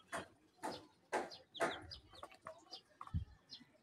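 Several Talisay gray chickens, about five months old, cluck in a short irregular series of close, moderately loud calls, with a few softer clucks and a brief low thump near the end.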